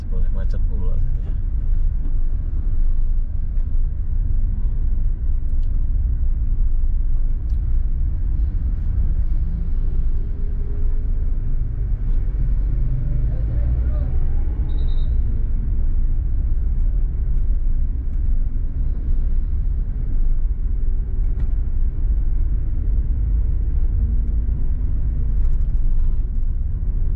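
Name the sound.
city traffic ambience while driving through Batam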